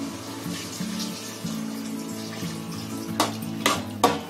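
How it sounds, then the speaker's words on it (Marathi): A glass of water poured into village-style chicken curry being cooked in a large batch, giving a steady watery splash over a low hum, followed by a few sharp clanks of pot and utensil near the end. "याच्यामध्ये मी 1 ग्लास पाणी टाकणार"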